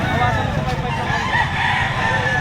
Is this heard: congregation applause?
no